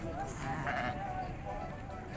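Sheep bleating amid the crowd at a livestock market, with goats also for sale, the calls mixing with steady chatter from buyers and sellers throughout.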